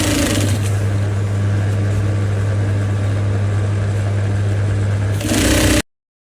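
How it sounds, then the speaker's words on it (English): A sewing machine stitches a pencil skirt, giving a loud, steady motor drone with a constant low hum that runs without a break for about five seconds and then stops abruptly. "and then you start sewing."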